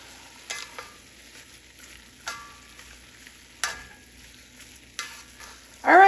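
Meat browns in a pot with a faint, low sizzle, punctuated by several sharp scrapes and clanks of stirring at irregular intervals and a louder clatter at the end, with no speech.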